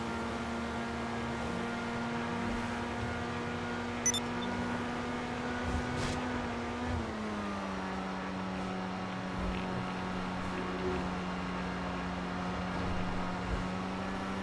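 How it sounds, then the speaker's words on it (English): A Grand Theft Auto V car engine gives a steady drone with a strong harmonic hum that drops slightly in pitch midway, like a motor idling and revving, with no talking. "That sound like I need exhaust on my car"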